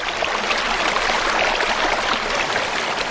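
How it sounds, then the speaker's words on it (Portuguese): Crystal-clear mountain water running down from ravines in a dairy-farm valley, a loud, steady rushing flow with no pauses and no voices. "Regadas pela água cristalina que desce dos grotões"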